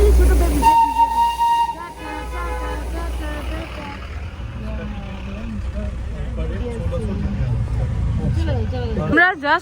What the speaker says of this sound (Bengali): স্টিম ইঞ্জিন এটা।